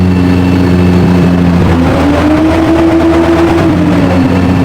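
A Lexus LFA engine revs hard, its steady mechanical drone rising in pitch as it climbs, loud and close with no voices over it.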